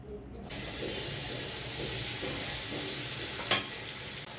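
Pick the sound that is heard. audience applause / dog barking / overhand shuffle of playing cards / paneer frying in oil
paneer frying in oil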